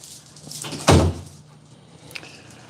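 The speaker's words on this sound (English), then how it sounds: "Close the door. Close the door." A door is pushed shut with a single dull thud, close and fairly loud, followed by quiet room tone and a faint tap; no one speaks.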